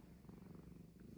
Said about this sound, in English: I can't get enough of this little kitten.